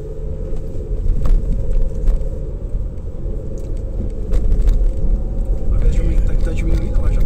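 Nissan Sentra B16 with a CVT gearbox climbing a steep hill, a steady low engine and road rumble droning throughout at close range, with faint speech now and then.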